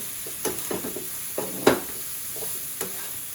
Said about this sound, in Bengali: এইদিকে আমার ফুলকপি ভাজি প্রায় শেষ পর্যায়ে দেখেন এই যে লাল লাল হয়ে গেছে